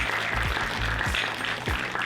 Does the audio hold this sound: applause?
yes